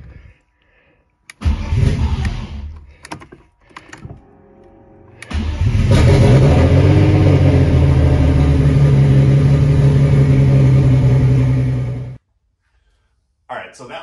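A turbocharged BMW E36 with an M50 engine cranks, catches and settles into a loud rough idle heard from inside the car, then cuts off; a voice is heard briefly before the start.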